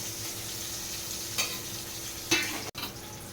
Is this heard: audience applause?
no